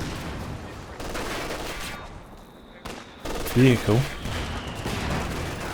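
Machine gun fire in the strategy game Company of Heroes 2, bursts of rapid gunshots and battle noise mixed with a commentator's voice, with a brief quieter stretch before louder firing resumes.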